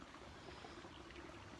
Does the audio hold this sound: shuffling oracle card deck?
no